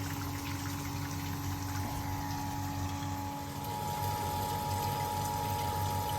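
A power flushing pump circulates water through a central heating radiator system, giving a steady mechanical hum with tonal whine and a continuous rushing, gurgling flow, close and unbroken, with no talking.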